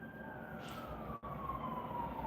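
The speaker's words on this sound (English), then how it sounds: "Sorry about the sirens." An emergency vehicle siren sounds in the distance, a faint high wailing tone slowly falling in pitch as it passes, with a steady low background rumble.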